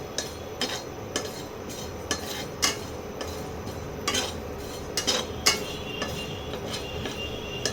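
Cumin seeds dry roasted in a pan for a spinach dish, with light metallic clinks and scrapes of a utensil stirring at an irregular pace over faint background noise, close but quiet.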